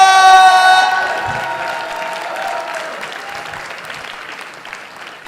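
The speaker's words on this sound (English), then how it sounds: "Give a huge, huge round of applause, Mr. Wakas Khan!" Loud applause from a wedding reception audience at the Hilton London Bankside fills a large hall, rising at once and then slowly fading, with a few brief clear tones sounding over the opening clapping.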